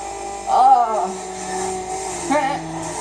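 A car in the Need for Speed Underground racing game brakes hard amid a steady engine drone, with a brief tonal squeal near the start and another swell later, under a talking voice.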